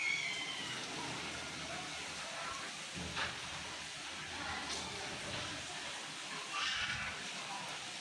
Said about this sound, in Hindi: आपको अगर नज़र आ रही हो बारिश की आवाज़ बहुत यार अच्छी लगती है मुझे।